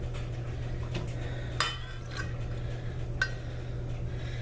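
A spoon stirs milk into blueberry muffin batter in a bowl, soft scraping and a few sharp clinks against the bowl over a steady low hum, with no talking.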